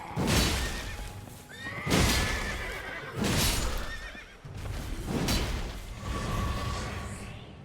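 Horse in the video game Elden Ring neighing repeatedly, about five loud whinnies spaced roughly every one and a half seconds, mixed with hoof clatter and whooshing combat sounds.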